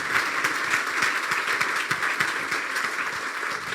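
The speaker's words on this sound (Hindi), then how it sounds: "फिर बजा दें यार तालियां" A church congregation applauds during an apostolic church sermon, a steady wash of many hands clapping at even loudness throughout, with no voices standing out.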